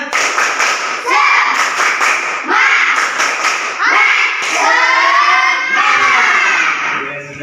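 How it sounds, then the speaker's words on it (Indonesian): Students stand in a classroom and perform the tepuk semangat spirit clap: bursts of rhythmic hand clapping mixed with loud, excited children's shouting and chanting, carrying steadily throughout. "Coba berdiri tepuk semangat"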